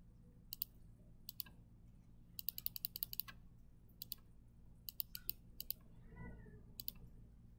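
Calculator keys are pressed in quick bursts of crisp plastic clicks, some single and some in rapid runs, close and fairly quiet in an otherwise hushed room.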